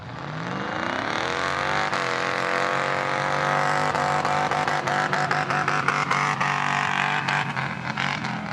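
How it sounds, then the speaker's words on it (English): A red Toyota truck at the Valemount mud drags screams loud and sustained near its rev limiter, the engine note climbing and holding with rapid limiter stutters toward the end. "Well, the old Toyota was on the rev limiter pretty hard"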